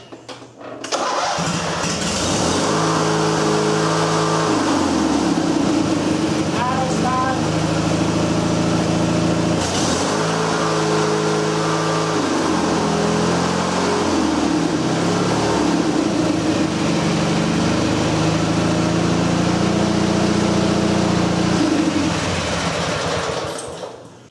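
An MTD riding mower engine, just fitted with a rebuilt carburetor, cranks and catches, then runs loud and steady at close range, its mid-pitched drone shifting a few times as the throttle changes.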